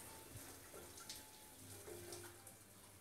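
Water runs steadily from a shower fitted with a micro hydrogenerator powering a light, a continuous hissing spray with faint splashes, heard alone at a low, even level throughout.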